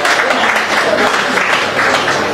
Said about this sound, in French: Est-ce qu'on peut l'applaudir encore très fort, s'il vous plaît?